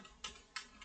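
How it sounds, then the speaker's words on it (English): Computer keyboard keys typed at a desk, three crisp clicks spaced evenly apart in a quiet room, close and moderately soft with no talking. "So that's a lot of typing"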